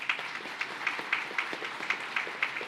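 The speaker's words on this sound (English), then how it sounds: "Let's give Commissioner Bray a round of applause." Audience applause honoring a fire commissioner at a fallen firefighters memorial ceremony, a steady crowd clapping with a dense patter of individual claps running throughout, moderately loud and continuous with no talk.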